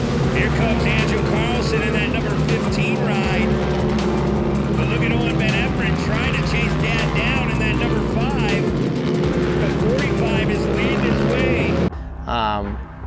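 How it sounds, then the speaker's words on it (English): Off-road race trucks roar through a turn during green-flag racing at Crandon Brush Run, a steady loud engine drone running throughout beneath continuous race commentary. "as we're back to green flag racing, Rodney Van Everett leads the field through turn 2"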